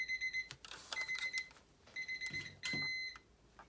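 A kitchen timer goes off with a series of rapid, high electronic beeps in several bursts. The last burst is a sustained tone. It rings close and fairly faint over light room noise.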